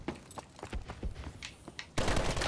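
Rapid gunfire bursts in the video game Call of Duty Advanced Warfare, a string of quick cracks and thumps over a dense background that ends in a louder, harsher roar.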